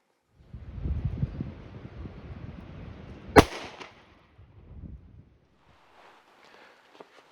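A single sharp gunshot from a Smith & Wesson M&P 40 pistol firing Speer 165 grain Gold Dot rounds outdoors, cracking loudly amid wind and rustling, then a short decaying echo and quiet.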